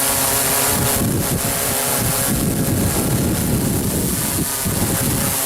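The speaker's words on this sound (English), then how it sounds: "It's windy, as you can tell." Strong wind buffets the microphone during a drone flight in a constant loud roar with gusty rumbling, with no voices.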